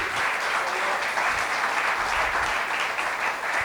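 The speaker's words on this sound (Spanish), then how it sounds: "Denle un aplauso al Señor" A church congregation applauds during a sermon on the resurrection, a dense, even wash of clapping that holds steady throughout at moderate volume.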